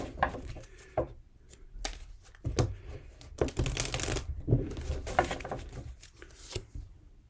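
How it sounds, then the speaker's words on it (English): A deck of tarot cards is shuffled by hand in quiet bursts of riffling and slapping clicks, with several distinct flurries separated by short pauses, fairly soft and close with no talking. "A couple more shuffles for the sign of Libra."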